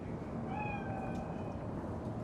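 Cat meowing inside Cyberpunk 2077, a few drawn-out mews over a steady low ambient rumble of game background noise, moderately close and with no talk.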